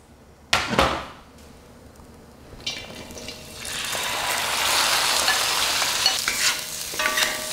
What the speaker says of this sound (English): you're gonna wanna fry this for a couple of minutes